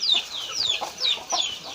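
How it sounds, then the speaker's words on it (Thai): Several chickens on a mixed farm cluck and chirp busily during feeding, with repeated short high calls coming close together at a moderate volume. "เอาอาหารให้ไก่อยู่"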